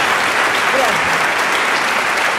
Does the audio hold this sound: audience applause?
yes